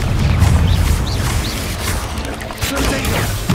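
Blasting-spell explosions burst in a fantasy video game, a busy stretch of booms and crashes with whooshing effects and clattering impacts, loud and dense throughout.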